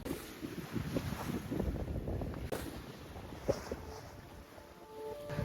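A sailboat moving at about six knots: steady broadband wind and rushing water with buffeting wind noise on the microphone, soft splashes and a few knocks throughout, no talking.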